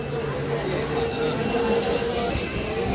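The Simhadri Express stands at Annavaram railway station on platform one, giving a loud, steady rumble of train noise with faint wheel squeal and a continuous hum, close and filling the whole clip.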